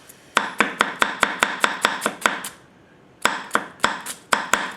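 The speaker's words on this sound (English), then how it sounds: "I'm gonna go ahead and chop." Chopping food on a board with a Yamashin White #1 210mm gyuto knife, crisp rhythmic chops in a quick even series, a short pause, then another run of close, clear strokes.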